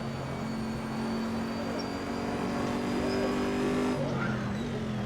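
A race car lapping Watkins Glen in the Assetto Corsa racing game, its engine holding a steady, sustained drone in third gear at part throttle, loud and continuous with a slight pitch shift near the end.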